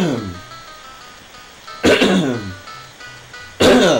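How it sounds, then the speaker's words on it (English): A man clears his throat loudly up close in three harsh bursts, with quiet game music playing in the background between them. "Still clearing my throat."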